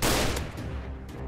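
Shotgun fire in the Roblox game Notruf Hamburg, a loud close blast opening the moment, followed by a decaying rumble and a fainter second report.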